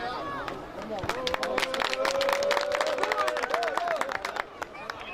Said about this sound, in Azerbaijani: Bir de regional destek olan alqışlayaq.